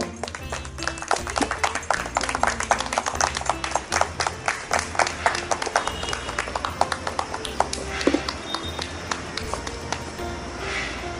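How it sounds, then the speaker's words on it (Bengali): An audience claps for a contestant at an event, a sustained burst of many hands clapping in a dense, lively rhythm close by. "আমরা হাততালি আশা করতেই পারি প্রত্যেক প্রতিযোগীর জন্য"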